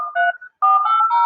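Mobile phone keypad tones while dialing emergency numbers on a repaired phone: a few short beeps, a brief gap, then a longer run of tones, clear and close.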